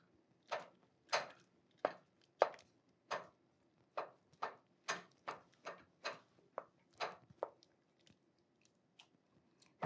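A spoon knocks and mashes leftover mashed potatoes in a pot of warm broth, making about fifteen soft, wet knocks at a fairly even pace, close by, with quiet moments between them.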